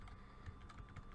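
Keys tapped on a computer keyboard while entering an effect search in After Effects, a few quiet clicks in a short burst.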